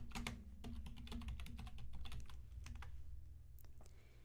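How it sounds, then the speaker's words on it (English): Typing on a computer keyboard into a chat, a rapid, uneven flurry of close key taps over a low steady hum, thinning out toward the end. "I'll type it in the chat."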